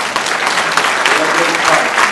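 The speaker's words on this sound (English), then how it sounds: "Can you please give a big round of applause to that wonderful woman out there?" A brief burst of loud, dense audience applause at a family values awards ceremony, continuous clapping throughout.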